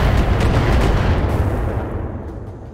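Heavy, continuous booming impacts from turret fire hitting a mech in the BattleTech game, loud and dense, rumbling low and slowly fading toward the end.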